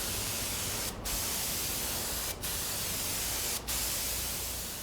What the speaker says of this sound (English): Now I'm going to keep spraying this until I've got a really nice shiny buildup.